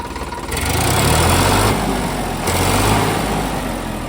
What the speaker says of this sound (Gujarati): સાતસો ચાલીસ બરાબર એન્જિન અવાજ તમે જોઈ શકો છો